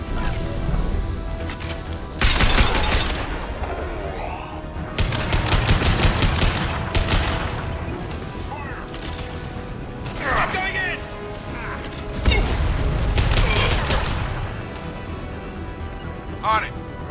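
Rapid gunfire and weapon impacts in the video game Mass Effect 2, coming in loud bursts mixed with game effects while characters shout over the combat.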